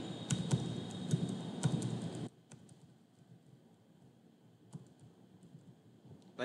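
Username and password are typed on a computer keyboard at a PC, with quick clusters of close key clicks for about two seconds, then sparser, fainter taps over a quiet background.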